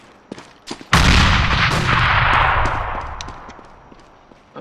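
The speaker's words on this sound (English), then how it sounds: "Grenade!" A grenade goes off in Counter-Strike: Global Offensive, a sudden loud blast after a few faint clicks, with a long rumbling decay that fades over several seconds.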